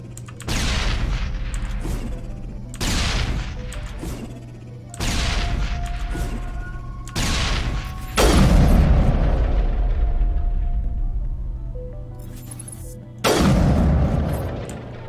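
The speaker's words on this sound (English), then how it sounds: "And let's use a grenade." Grenade blasts in the video game Mass Effect: a series of heavy booming explosions, each with a long rumbling decay, coming in several rapid bursts, with one larger blast and a final loud one.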